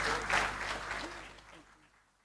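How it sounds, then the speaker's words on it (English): Applause from an awards ceremony audience in St. Lucia as a speaker walks to the podium, a moderate burst of clapping that peaks early and tapers away, with faint voices underneath. "A round of applause."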